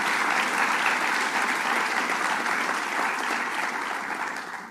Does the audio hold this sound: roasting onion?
no